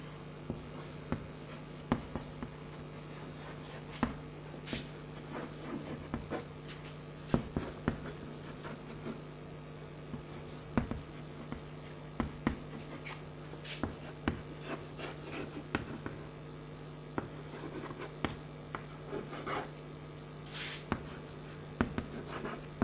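A pen scratches and taps on paper in soft, irregular strokes during a class 10 maths lesson on triangles, set against a steady low electrical hum.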